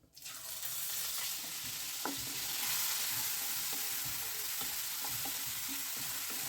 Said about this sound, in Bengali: এই চালটা আমি এখানে দিয়ে দিচ্ছি